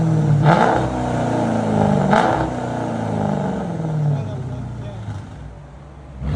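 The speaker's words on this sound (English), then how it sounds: "Rev it high" A 2012 Dodge Challenger R/T with a 5.7L HEMI V8 running full straight pipes revs high, its loud raspy exhaust swelling in two close bursts before settling back to a rumbling idle.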